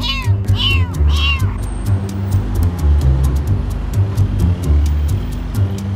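A cat meowing three times in quick succession near the start, rising and falling calls over a constant low engine-like rumble, followed by a regular series of faint clicking ticks.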